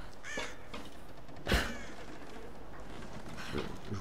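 Crow cawing in the game Tomb Raider 2013: a harsh caw near the start, a sharp impact-like burst mid-way, and another faint caw at the end, over a quiet game ambience.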